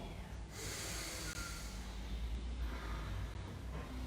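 Yoga breathing during a guided session, a long audible inhale and exhale through the nose, soft and close with a steady airy hiss and no talk over it.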